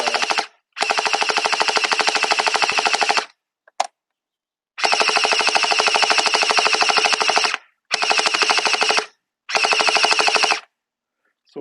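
Ferven Toys Gatling gun gel ball blaster with an upgraded gearbox on a tripod fires long, loud, continuous full-auto bursts, four main strings separated by short pauses, with no talk over them.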